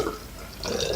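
Liquid medication trickles into a graduated cylinder in a brief, close pour with a light splashing, gurgling quality that swells toward the end.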